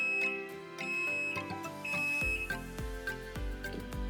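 A Denpoo DWF-073 HT full-automatic washing machine beeps at the end of its cycle: a short run of faint, evenly spaced electronic tones, followed by a few dull low thuds.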